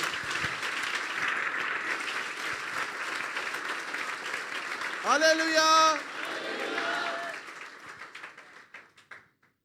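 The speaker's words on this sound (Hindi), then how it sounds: "आइए उस बादशाह के लिए जोरदार तालियां बजाइए" A church congregation claps loudly during a sermon, sustained applause that fades toward the end while a voice breaks in briefly with a sung or called-out phrase.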